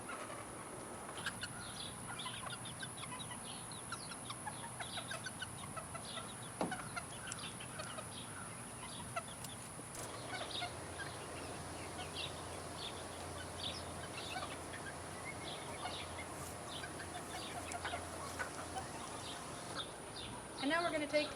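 Chickens cluck and call across a backyard chicken yard in a home garden, with overlapping bird calls near and far and people talking quietly in the background.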